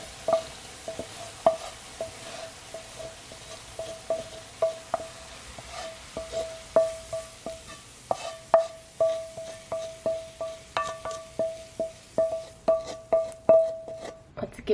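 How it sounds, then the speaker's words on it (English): A spoon stirs melted butter into stuffing mix in a crockpot, making a steady run of soft scraping strokes with light ringing clinks against the pot, growing quicker and busier toward the end. "Give it a stir."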